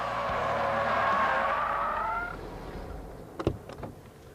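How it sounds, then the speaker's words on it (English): A car spins out on a track with a loud, drawn-out tyre squeal that sweeps and fades over about two seconds, followed by a few sharp knocks and rumbles as it settles. "That upset the balance of the car, pitched the nose forward, and caused the spin."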